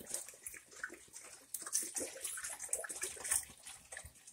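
White vinegar pouring into a pot for homemade pickled eggs, a splashing liquid stream that swells and fades in uneven surges, close and moderately loud, with no talking.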